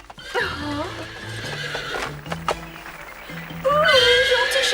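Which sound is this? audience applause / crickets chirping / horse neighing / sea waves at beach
horse neighing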